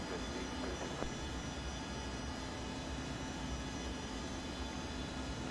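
An ERJ regional jet in the X-Plane flight simulator roars steadily through its takeoff, a broad, constant engine rumble that holds at one loudness throughout with no talking.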